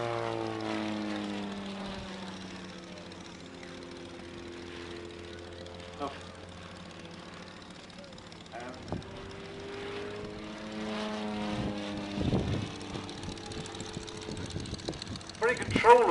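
Swift aerobatic light aircraft with an 80-horsepower four-cylinder Jabiru engine flying at an airshow at Old Warden; a steady propeller drone sweeps up and down in pitch as the plane passes, with a commentator talking over it.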